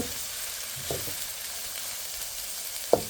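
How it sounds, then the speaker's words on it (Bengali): Onions frying in mustard oil in a wok give a steady, close hiss of sizzling, broken by a soft stirring scrape near the start and a sharp metallic clink toward the end. "কড়াইতে তেল দিয়েছে সরিষার তেল এখন পেঁয়াজটা দিয়ে দিলাম পেঁয়াজটা আমি ব্রাউন কালার করে নেব"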